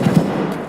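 A gunshot in the first-person shooter game Escape from Tarkov: two quick, punchy thumps close together, followed by a short fading rumble with no talking.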